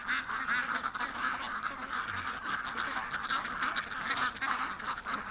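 A flock of ducks quacks and honks excitedly close by, a dense continuous chorus of overlapping calls with no pauses.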